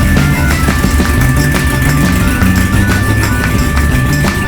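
A Harley-Davidson Iron 883 Sportster engine idles steadily and loudly up close, a continuous low rhythmic rumble with no talking.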